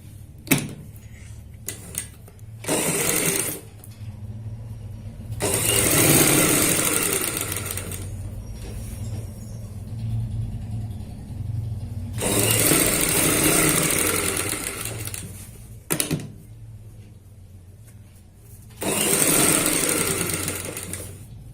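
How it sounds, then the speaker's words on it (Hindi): A sewing machine stitches a boat neck onto a kurti in several loud, close bursts of rapid whirring, separated by pauses with fabric handling and soft clicks, and no talking. "तो यहाँ पे इसको इसी तरीके से रखते हुए हम सिलाई से अटैच करेंगे।"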